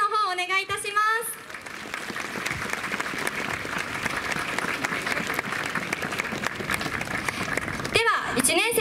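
Audience at a Tokyo University of the Arts festival stage giving a sustained round of applause, dense clapping filling several seconds between a host's announcements before and after.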